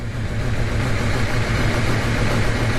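A 2024 BMW S1000RR motorcycle sits on its pit lane limiter, engine held steady near 3,000 rpm with a loud, continuous, close-up drone and no break or change in pitch.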